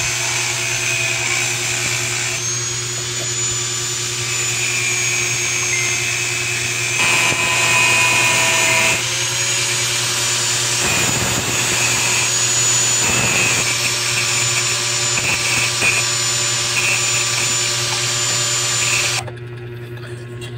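A grinder runs steadily and loud on a Honda Click motorcycle brake lever, a continuous high whine with shifting tones as the workpiece is pressed. It cuts off sharply near the end, with no talking.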